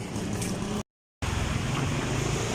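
A long-tail boat on the water in Bangkok, a steady broadband engine and water rush heard close, cut by a short dropout of silence before resuming.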